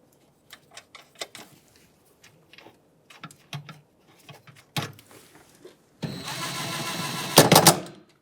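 A ratchet tightens the mounting nuts on a fuse box bracket of a 2013-2020 Nissan Pathfinder with a 3.5L V6, scattered close clicks and taps followed by a loud burst of rapid ratcheting near the end.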